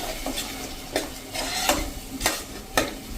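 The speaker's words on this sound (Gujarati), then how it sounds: "આ સ્ટેજે આપણે જે એક ટમેટું હતું એની મેં પ્યુરી કરી છે એ નાખી દેશું" Tomato puree tipped into sizzling spiced oil for a black-eyed pea curry and stirred, giving a steady frying hiss with a few sharp scraping strokes of the spoon against the pan.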